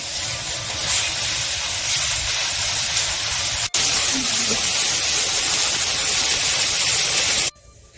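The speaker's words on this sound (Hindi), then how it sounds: "अभी डालेंगे अदरक और लहसुन का पेस्ट, इसको भी बढ़िया से भूनते हैं।" Ginger garlic paste frying with onions in a pan while making a village-style chicken curry, a loud close hissing sizzle that runs steadily, with a sharp cut midway and an abrupt drop near the end.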